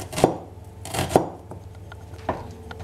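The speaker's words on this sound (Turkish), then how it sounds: "Bir adet orta boy soğanımı ince ince doğruyorum." A medium onion is finely chopped with a knife on a cutting board for a yogurt-dressed spinach soup, giving about four sharp, close knife strikes spaced unevenly with quiet pauses between them.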